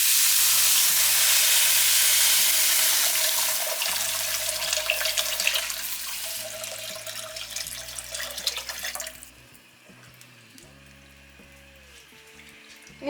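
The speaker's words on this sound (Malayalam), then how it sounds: "ഇനി ഇതിലേക്ക് നമ്മൾ പാൽ ഒഴിച്ചു കൊടുക്കുകയാണ്" Milk mixed with water poured into a pan of roasted vermicelli for fruit and dry fruit payasam, a steady loud pouring rush that fades after about nine seconds into quieter sizzling and bubbling.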